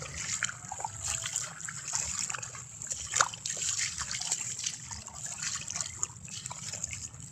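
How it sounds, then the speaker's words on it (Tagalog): Irrigation water trickling and flowing steadily on a farm in Santa Clara, a low continuous gurgle with a few brief splashes, fairly close and unbroken throughout. "Ito lang tubig ang irrigation"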